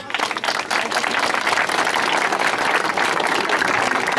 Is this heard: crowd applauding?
yes